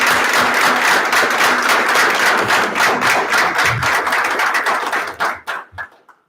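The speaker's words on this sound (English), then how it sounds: "please join me in another round of applause for the graduating class" Audience at a jail basic training graduation applauding the graduating class, sustained clapping that thins into scattered last claps and fades to quiet.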